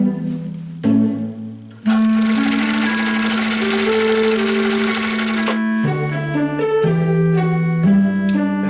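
A Husqvarna Viking CL21A sewing machine stitching, its motor whirring in steady runs that shift pitch as the speed changes, with a brief pause before a longer loud run and then shorter bursts, close and clear.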